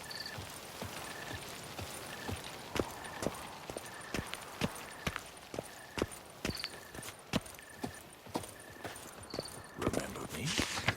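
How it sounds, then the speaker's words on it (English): Steady horse hooves clop along at a walking pace in the video game The Witcher 3, Blood and Wine expansion, with faint tonal game sounds repeating in the background. "He stole my horse."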